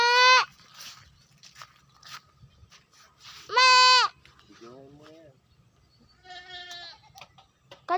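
Goats on a farm bleat loudly several times, with sharp bursts at the start and middle and a couple of shakier calls later, while people talk quietly between the cries.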